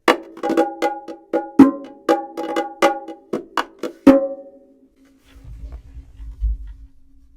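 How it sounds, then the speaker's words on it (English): A quick, lively run of bongo hits rings out close and crisp, about a dozen strokes in a syncopated pattern, then it stops and a faint low rumble follows. "And finally, we have the bongos."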